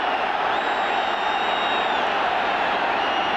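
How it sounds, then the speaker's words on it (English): A football stadium crowd at an AC Milan versus Juventus match roars in a steady, continuous wave of noise during an on-field scuffle, with whistles or shouts rising above the broad din. "when you hear the crowd reacting like that, you got to know something else is happening"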